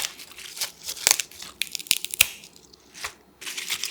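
Crisp romaine lettuce leaves are pulled apart by hand, giving a close, uneven series of sharp crunchy snaps and leafy rustles with no voices.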